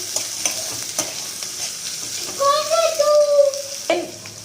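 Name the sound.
stirring frying peas and spinach rice ingredients in a pan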